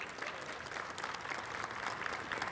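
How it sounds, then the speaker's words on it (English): A crowd applauds steadily, a dense patter of many clapping hands at moderate volume throughout. "Give him a round of applause, please."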